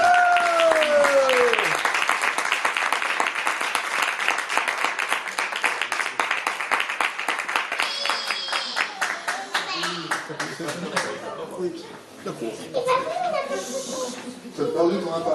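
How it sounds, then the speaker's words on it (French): An audience at a French slam poetry evening claps for a poet, crisp rhythmic clapping building under a host's voice and a sliding tone, then thinning into scattered claps and chatter. "faire un tonnerre d'applaudissements à Yves"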